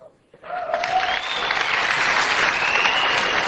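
A presentation audience bursts into applause for a Windows 8 feature, rising quickly from near silence into loud, sustained clapping from a large crowd that keeps going to the end.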